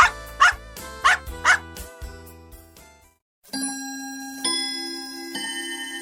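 Dog barking in four quick sharp barks close by, followed by a pause and then ringing, chiming tones.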